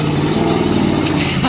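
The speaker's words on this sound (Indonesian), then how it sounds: "Wah, mobil monster lagi." A monster truck's engine drones at a steady mid-pitched rumble, loud and continuous for a brief moment with no clear revving.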